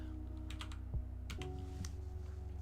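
Keys tapped on a computer keyboard during a live stream, a brief scatter of light clicks, close but soft, over a steady background hum with no talking.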